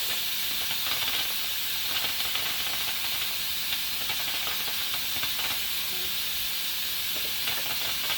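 Steady, dense sizzling and hissing of okra frying in hot oil, continuous and close throughout with no talk.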